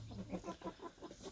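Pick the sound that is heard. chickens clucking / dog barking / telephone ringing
chickens clucking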